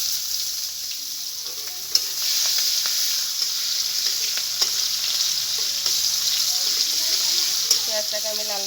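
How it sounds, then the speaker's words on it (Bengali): Chopped onions with whole cumin, cinnamon, cardamom and cloves frying in hot oil, a continuous loud close sizzle broken by occasional spoon taps and stirring scrapes. "পেঁয়াজটাকে আমি লাল লাল করে ভেজে নেব।"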